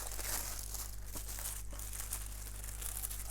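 Tissue paper wrapped around a papercraft subscription box's contents crinkles and rustles steadily up close, with soft scattered crackles over a constant low electrical hum.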